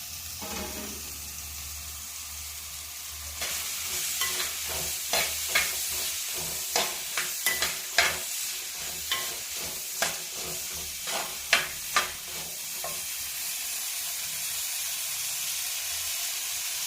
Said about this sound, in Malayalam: എണ്ണ ചൂടായി വന്നിട്ടുണ്ട് പത്തിരുപത് കഷ്ണം ചുവന്നുള്ളി ചെറുതായിട്ട് അരിഞ്ഞത് രണ്ട് സവാള ഇതെല്ലാം കൂടെ നമുക്ക് ഇട്ട് കൊടുക്കാം